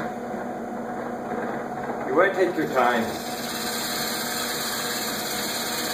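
A cocobolo wood pen blank is drilled on a woodturning setup, a steady droning motor whine running continuously under someone talking, with a brief rougher grinding flutter midway.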